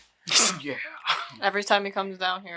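A single sharp human sneeze bursts out near the start, quickly followed by someone talking.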